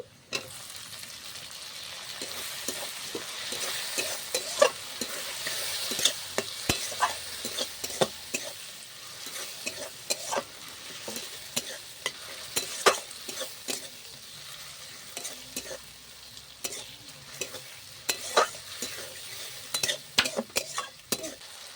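Tomatoes and chopped green chilies frying in a pan while being stirred for a banana-flower kofta curry, with a steady close sizzle broken by frequent scraping stir strokes and light utensil clicks, no talking.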